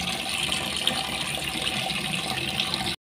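Hands being washed under a running kitchen tap, a steady, fairly loud rush of water that continues unbroken and then cuts off abruptly.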